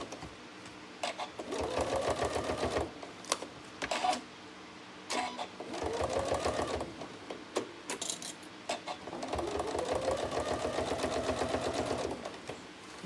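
A sewing machine stitches prairie points on a trapunto patchwork cushion in repeated stop-start bursts, each run a close, rapid mechanical whirr separated by short pauses and small clicks.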